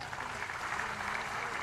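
Audience applause at a national awakening day ceremony in West Java honoring special forces troops, a steady dense wash of clapping that stays even and fairly quiet throughout.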